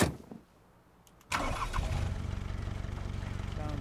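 A car engine in the survival game Rust cranks and catches after a brief quiet gap, then settles into a steady, rumbling idle that pulses evenly until the end, fairly close and clear.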